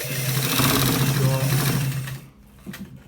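A sewing machine stitches a shirt collar in a steady, loud mechanical whir for about two seconds, then stops, leaving quieter handling sounds.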